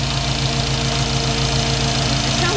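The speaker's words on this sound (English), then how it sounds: "I think it's the injectors popping." An early Ford Bronco engine with Holley Sniper EFI idles steadily up close, with a fast, regular light ticking from the fuel injectors running through the low rumble.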